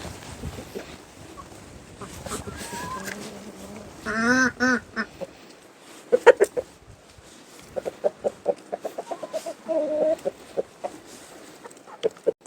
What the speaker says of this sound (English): So as you can see, they have some chickens, some ducks.